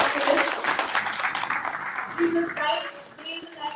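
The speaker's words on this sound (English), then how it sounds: "And we have some claps, please." An audience claps in a seminar hall at the inaugural session of a national conference, a dense burst of applause that thins out over a few seconds, with voices talking underneath.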